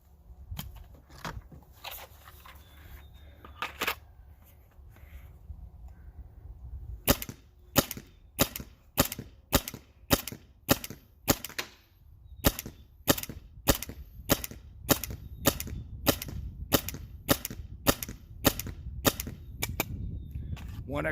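An EMF100 paintball marker fires First Strike rounds in a fast, regular string of sharp, loud pops, with a few scattered shots at first, then a steady volley of about twenty closely spaced reports.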